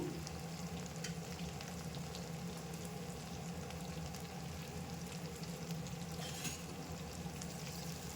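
Crushed garlic frying in hot oil in a pan, a continuous dense crackle and sizzle throughout, fairly quiet and steady, with no voices.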